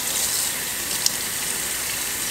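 Cold water running steadily from a tap into a sink, a constant hissy stream with one small splash partway through, no talking.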